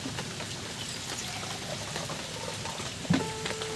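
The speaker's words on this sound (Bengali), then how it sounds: "এবার এইটা নর্মাল জল বন্ধুরা দেব" Plain water poured into a plate of goja dough mixture makes a steady, close trickle that runs throughout, with a short knock near the end.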